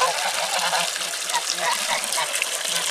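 Geese honking at an evening feeding on a farm, with ducks nearby, a steady run of nasal calls from close by over a rushing, hissing background.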